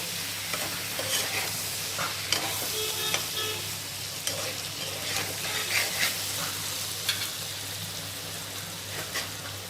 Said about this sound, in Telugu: ఇప్పుడు ఇదంతా ఒకసారి మళ్ళీ కలుపుకుందాము